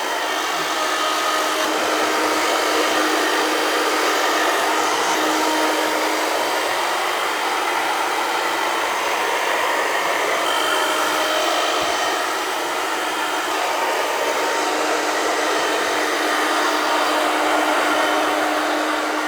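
A hair dryer blows steady, loud air over towel-dried curly hair, a continuous whooshing roar that stays even for the whole stretch with no talking.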